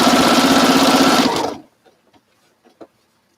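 A sewing machine stitches through a quilt in a steady, fast mechanical whir for about a second and a half, then stops abruptly, leaving a few faint clicks and handling noises.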